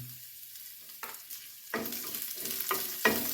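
Crushed ginger and garlic frying in a pan for muttapappadam curry. A soft sizzle is punctuated by several sharp, close scraping stirs that come at an irregular pace.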